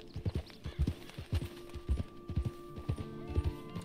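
Horse hooves clip-clopping in the video game Red Dead Redemption 2, a steady, evenly spaced run of close, loud hoof thuds with a faint whinny and a low hum behind.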